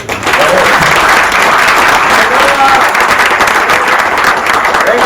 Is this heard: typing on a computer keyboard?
no